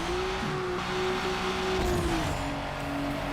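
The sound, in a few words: race car engine, from video game Need For Speed Underground Rivals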